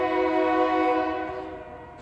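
A train horn sounds loud and sustained with a chord-like tone, fading as the train moves off, with faint rail rumble underneath.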